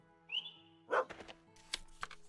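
A cartoonish dog in the Potion Permit video game gives a short yip and a couple of soft barks amid quiet game sound effects and low music.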